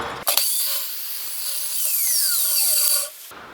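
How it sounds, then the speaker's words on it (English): A chop saw cuts through steel box section square tube, a loud, harsh grinding whine holding steady for about three seconds before the blade drops away and winds down. "which I'm just going to do on the chop saw"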